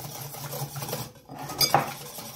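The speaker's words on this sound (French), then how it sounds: "vous allez casser votre œuf, mettre le sucre et vous allez blanchir votre mélange" Egg and sugar being whisked in a mixing bowl, a close continuous metallic scraping and clinking with a brief pause midway, then a sharper clink, no talking.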